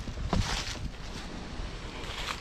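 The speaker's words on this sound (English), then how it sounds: "there's a little bit of wind right now, as you can see. It's a little bit of wind blowing and the leaves are falling." Wind blows through a pumpkin garden as leaves fall, a steady rushing gust with microphone buffeting, close and fairly loud, with no talking.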